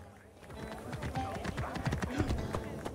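Quick rhythmic hoofbeats of a galloping horse in Assassin's Creed Origins, with a brief whinny, over faint background music and a voice talking.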